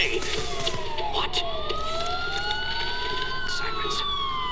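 Police sirens wail in the video game Batman: Arkham Asylum, several rising and falling tones overlapping continuously, loud and close amid background game noise, with brief sharp knocks.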